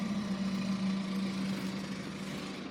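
BMW xDrive18d with a 2.0 turbo diesel engine idling after a push-button start, a low steady drone with a constant deep hum, no talk.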